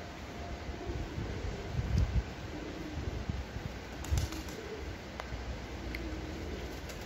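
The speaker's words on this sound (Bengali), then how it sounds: "দেখো কত পাখি" Pigeons at a hillside temple coo faintly, with a couple of brief wing flutters, against a low wash of wind and outdoor ambience.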